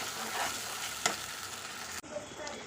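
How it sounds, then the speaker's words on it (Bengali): Ginger and green chilli paste fries and sizzles in a pan with steady hiss and occasional stirring, one sharp scrape partway through and a brief break near the end, close and alone without talk. "যেহেতু এখানে আদা আর কাঁচা লঙ্কা আছে, ওই জন্য পেস্টটাকে ভালো করে কষিয়ে নেব"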